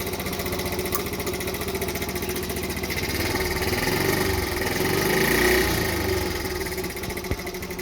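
A 1970 Honda ST50 Dax's small single-cylinder engine runs steadily close by, a rapid even putter with slight swells in revs, alone without talk.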